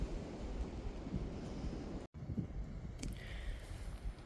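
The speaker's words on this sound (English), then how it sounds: "It is super windy." Strong wind at Wesser Bald on the Appalachian Trail roars and buffets the microphone in a steady broadband rush, with a brief dropout partway through.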